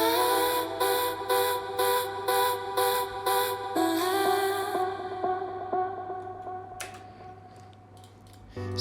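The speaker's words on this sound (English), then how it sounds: "also there's this vocal chops in bridge which sound like this together." Chopped vocal stabs in the bridge of an Afro House track repeat in an even rhythm over a steady low drone, then thin into trailing echoes. The level is moderate and no one talks.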